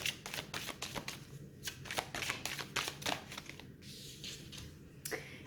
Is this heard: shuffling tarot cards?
yes